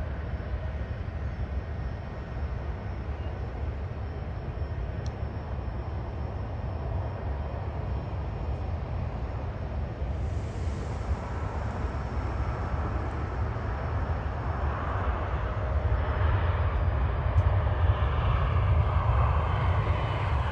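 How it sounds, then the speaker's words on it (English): Airbus A330 airliner passing, a steady low jet rumble throughout that grows slightly louder and rougher toward the end, heard from a distance outdoors. "A330."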